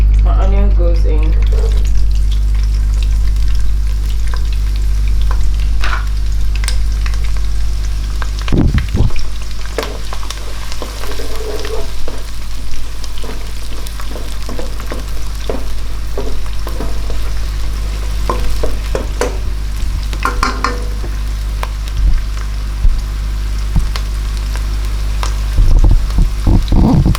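Chopped onion sizzles and fries in hot oil in a pot for Nigerian ogbono soup, a steady loud hiss throughout with stirring scrapes and clatter of utensils near the pan.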